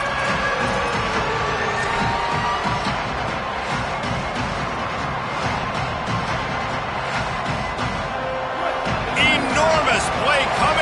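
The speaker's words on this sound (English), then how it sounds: "Third down, and this crowd is bringing down the house." A football stadium crowd roars steadily before a big third down in a Florida game, a continuous loud wall of noise with a commentator talking over it.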